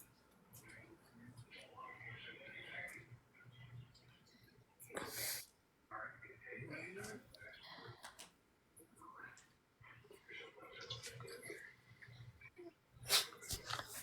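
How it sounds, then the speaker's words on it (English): A dog close to the microphone sneezes in a few short bursts amid snuffling breaths, faint overall, with quiet human talk in between. "Oh, you just sneezed right in my face."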